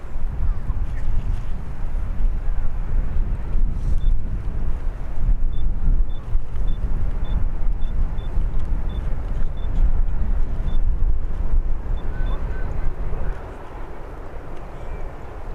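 A jet airliner lands at Birmingham airport, a broad rumbling roar that holds strong and steady for a long stretch before dropping away near the end, with wind noise in the background.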